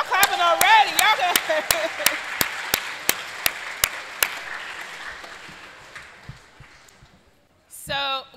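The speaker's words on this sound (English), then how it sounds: "Y'all clapping already." At a student orientation keynote, a crowd cheers and whoops while a single pair of hands claps in a slow, steady rhythm that fades out, followed by a short burst of voices.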